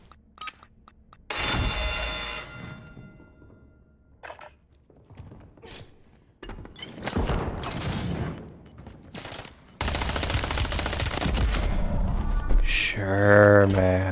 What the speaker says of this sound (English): I'm strafing, I'm shooting him straight in the face.